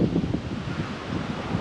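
Strong wind buffets the microphone outdoors at Whitby on the English coast, a steady low roaring rumble with gusty swells throughout and no voices.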